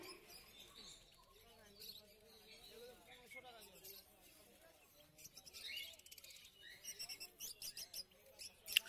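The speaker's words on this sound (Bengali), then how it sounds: "ফিশার দেখতে পাচ্ছেন, সঙ্গে অ্যালবিনো লাভ বার্ডও আছে।" Fischer's lovebirds, yellow Fischers and albino lovebirds chirp and tweet at the Garia bird market. The calls are faint and scattered at first, then grow busier and sharper toward the end, with soft background murmur.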